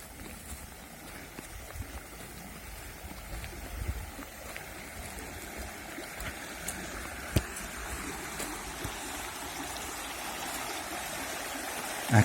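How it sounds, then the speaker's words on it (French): A flowing stream too deep to wade, running through countryside beside cultivated land: a steady, continuous rushing and gurgling of water, close and even in level throughout, with no voices. "Un cours d'eau qu'on ne peut pas traverser à pied, à moins peut-être de se déchausser, mais ça m'a l'air un peu profond."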